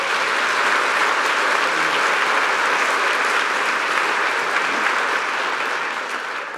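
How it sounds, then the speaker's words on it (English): A crowd claps in sustained, dense applause that stays loud and even, fading slightly at the end. "Let's give him a round of applause."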